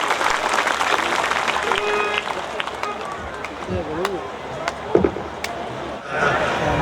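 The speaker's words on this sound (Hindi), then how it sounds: "एक बार जोरदार तालियों के साथ स्वागत करेंगे।" Crowd applause at a Hindu satsang gathering in Ellenabad, a broad, continuous clatter of clapping mixed with voices and babble, with a few sharper bursts near the end.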